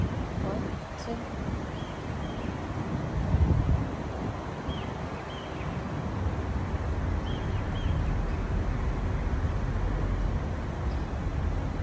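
Wind blows steadily in a broad, rushing roar with soft rustling, and faint talk is barely audible underneath.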